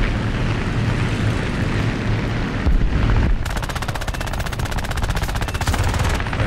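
Rapid machine-gun fire from a Nimrod Mk I aircraft in War Thunder air arcade combat, loud and continuous, shifting into a sharp, evenly spaced rattle of shots over a roaring engine drone.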